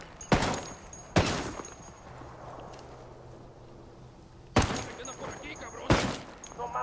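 Suppressed rifle shots in the tactical shooter Ghost Recon Wildlands, four sharp cracks in two spaced pairs, with quiet ambience and a low hum between them.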